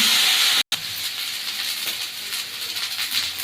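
Garlic frying in a pan for a prawn and potato curry, a steady, close hiss and sizzle that drops out for an instant and then carries on evenly.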